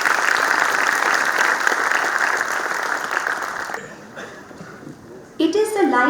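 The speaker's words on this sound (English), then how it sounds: "Let's give a huge round of applause to our very competent gold medalists and PhD awardees." Audience applause at an awards ceremony honouring gold medalists and PhD awardees: steady, dense clapping from a large crowd that thins out toward the end, followed by a sudden burst of a voice or music.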